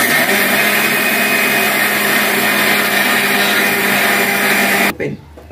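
A wet grinder whirs loudly and steadily as it grinds dosa batter, a constant motor drone that suddenly cuts off near the end, leaving a quieter room.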